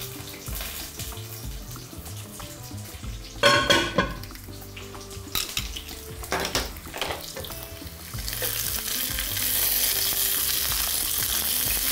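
Vegetables frying in a pan, a steady sizzle with a few louder clatters of utensils partway through, swelling into a stronger, brighter hiss near the end.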